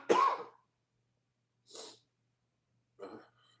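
A person with a lingering cough coughing indoors, three separate close, sharp bursts spaced about 1.5 seconds apart with silence in between, the first one the loudest.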